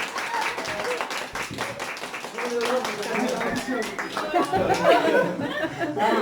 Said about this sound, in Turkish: Alkış yaptık ya